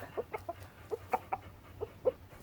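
A rooster clucks in a series of short, quiet bursts, about eight soft clucks at irregular intervals, faint against a low background.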